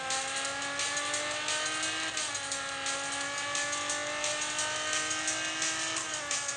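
A race car engine in Real Racing 3 howling at high revs, a steady loud tone with rising and falling pitch as gears shift, continuous throughout with no voices.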